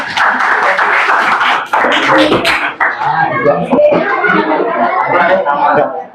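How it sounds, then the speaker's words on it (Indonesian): Applause for a student group in an Indonesian classroom during an academic coaching and supervision session, a burst of clapping mixed with lively chatter and chuckles from the class that carries on as voices take over. "Tepuk tangan untuk kelompok mereka."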